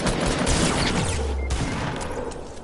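Dense, booming gunfire from a Fortnite match on PS4 Pro, with pump shotgun blasts standing out as sharp hits amid a continuous rumbling barrage, loud and close.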